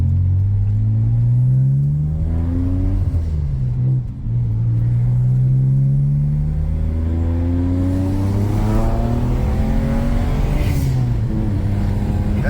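A BMW 335i with a turbocharged N54 engine and six-speed manual accelerates at half throttle, its loud deep engine drone rising steadily in pitch, heard close from inside the car, with no talk.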